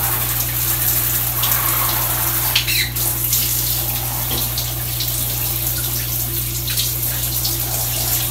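Cold water runs steadily from a tap, a constant close gush with some light splashing over a low hum.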